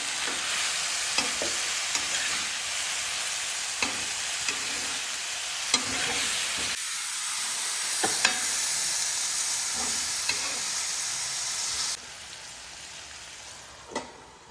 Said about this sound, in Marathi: आता आपण भाजी जराशी वाफवायला ठेवली आहे